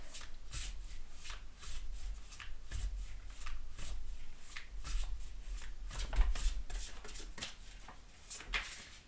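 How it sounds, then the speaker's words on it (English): New tarot cards are shuffled repeatedly up close, with crisp riffling snaps and soft rubbing in an uneven rhythm, with no voices. "When the cards are new like this, they're really hard to do a casino shuffle"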